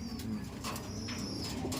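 A pigeon coos softly and steadily, a low repeated murmur with faint chirps above it.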